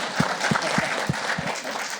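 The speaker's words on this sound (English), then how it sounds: "You forgot to clap for George." Applause from an audience at a panel discussion on affordable and reliable US water and sanitation services, a steady dense patter of many hands clapping close by, with no talk over it.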